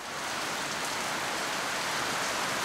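Steady rain falls in the Seychelles, a dense, continuous hiss of drops on surfaces that holds an even, loud level throughout, with no voices.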